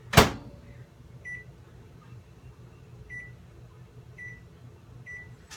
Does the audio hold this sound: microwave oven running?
yes